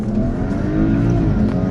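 A BMW X3 engine revs hard as it accelerates off the line in a drag race, a loud, steady roar with rising harmonics held close for the whole stretch.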